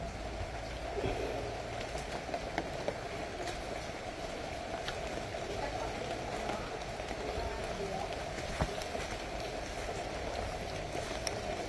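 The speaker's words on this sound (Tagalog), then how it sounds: "Ti gaulan-ulan pangadaan subong." Light rain falling steadily, a dense even patter with occasional sharper drops, constant and moderately quiet throughout, with a voice in the background.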